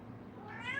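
A short, fairly quiet meow from a mother cat, rising at the end over a low indoor background.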